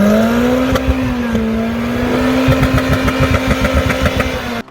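A Lexus IS200 engine runs loud and close with a steady tone, then gives a series of quick throttle blips and revs toward the end, all alone with no talk.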